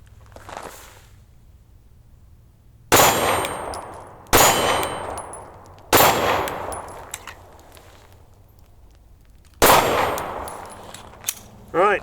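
A SIG P365 XL pistol fitted with a Romeo Zero red dot optic is slapped hard against a hand, making four loud, abrupt clacking impacts spaced a second or more apart, each with a brief ringing tail, then a faint tap near the end.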